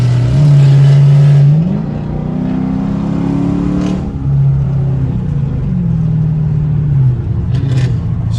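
Straight-piped Dodge Charger RT pulling hard on a highway, a loud raw exhaust roar climbing in pitch through the gears with brief drops at each shift, close and dominant throughout.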